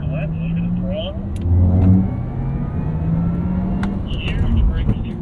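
A 2023 Porsche Taycan Turbo electric sports car accelerates at a driving course, its motor whine rising and swelling under steady road rumble and tire noise while an instructor talks throughout.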